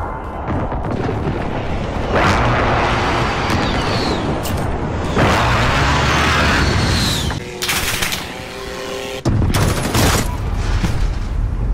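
Precision airstrike explosions in a Modern Warfare team deathmatch: loud overlapping blasts and rapid gunfire-like crackle in dense, sustained bursts, with a brief dip before a final heavy barrage.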